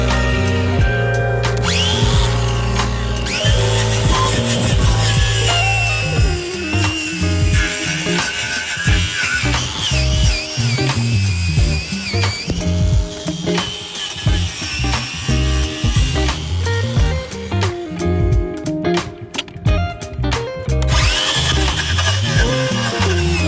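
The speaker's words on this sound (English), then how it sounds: "let's hit it with a wire wheel and see what's left" Wire wheel on a power tool grinding rust off the chassis of an abandoned 700 hp 1980s supercar, a loud, continuous whirring abrasive scrub with shifting pitch as the tool moves, briefly easing off near the end.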